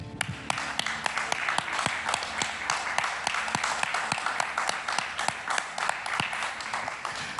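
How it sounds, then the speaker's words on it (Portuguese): Audience applause during a Catholic testimony programme on Canção Nova, a steady patter of clapping hands with sharp individual claps standing out, fairly faint and continuous with no one talking. "nós aqui vamos aplaudir."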